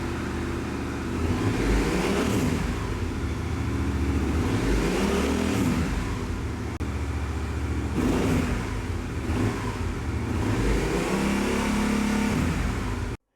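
A motorcycle engine runs loud and close, rising and falling through several throttle revs over a steady idle rumble, with no talking.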